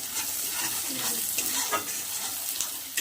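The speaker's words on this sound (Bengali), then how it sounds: "মশলাটা কষানো হয়েছে।" Spices sautéed and stirred in a pan, turmeric and a little chili powder among them: steady close sizzle with scraping stir strokes throughout, no talk.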